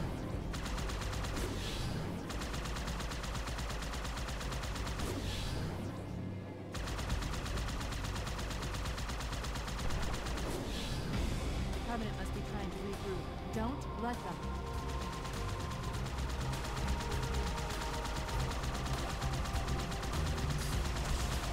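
Sustained gunfire in the video game Halo, a near-continuous barrage of loud shots and bursts with a brief lull early on, running under a busy game soundscape.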